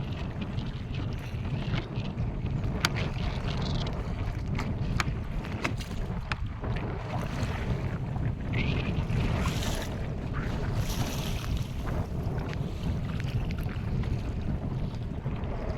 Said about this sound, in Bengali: নদীতে কিন্তু প্রচণ্ড তুফান হচ্ছে আর সেই সাথে সাথে হাওয়া